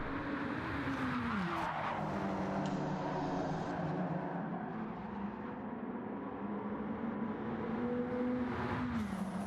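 GTO stock race cars battling for the lead in a racing video game, with several engines droning and revving together, pitch sliding up and down through gear changes, loud and continuous.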